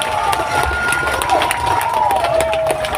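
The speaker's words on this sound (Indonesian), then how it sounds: "tepuk tangan untuk brother kita" Campaign rally crowd cheering and shouting loudly and steadily, a dense wall of voices with scattered claps and whistles running throughout.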